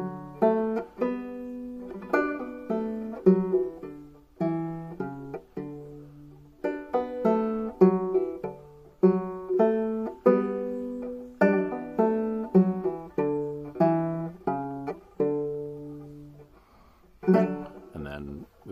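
A banjo plays the B part of the folk tune Cumberland Gap in clear, close plucked phrases with short pauses between groups of notes. A brief noisy sound comes near the end.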